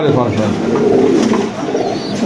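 Pigeons coo repeatedly at a pigeon sale, their low rolling calls close and steady beneath a busy background of people talking.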